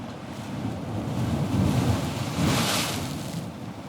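Roaring wind and crashing surf build and swell around a heaving lobster boat off Maine, with a rushing wave surge peaking midway, loud and continuous like a storm at sea.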